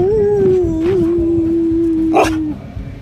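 A husky-mix dog gives a loud, sustained howl from close by, holding one steady pitch for about two and a half seconds before it breaks off, with a little outdoor background underneath.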